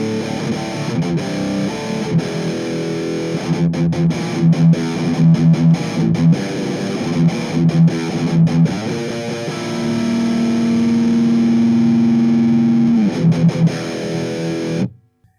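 A guitar through a Mooer Black Truck multi-effects pedal with gain fully cranked and the noise gate engaged plays loud distorted chugs and riffs, ending in a sustained held note that cuts off cleanly into silence.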